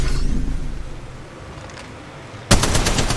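Gunfire in the Apex Legends Mobile video game, a low rumbling lull that breaks into a loud, rapid burst of automatic fire near the end.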